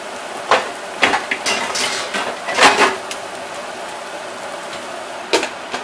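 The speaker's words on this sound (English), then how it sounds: "Put a lid on it." Metal lid set onto a pot of taco meat, several sharp clanks and rattles spaced over a few seconds, close and loud against quiet kitchen background.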